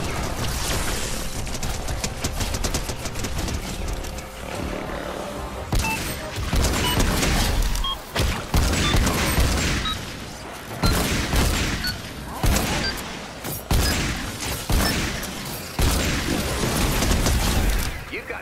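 Video game shotgun fire in a loud, chaotic multiplayer fight, with repeated booming blasts and bursts mixed with mechanical clatter and overlapping game sounds.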